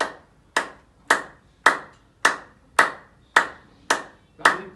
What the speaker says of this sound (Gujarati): આ 5 આંગળા એકબીજાને ભટકાય ફેરી સહી એમ તાળી પાડો